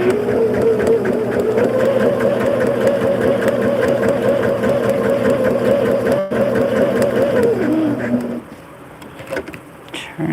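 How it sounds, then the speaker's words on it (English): A sewing machine stitches around a quilt block with a fast, even mechanical whirring and rapid needle chatter. It runs steadily for about eight seconds, then stops, leaving quieter handling sounds. "And I'm just going to sew all the way around."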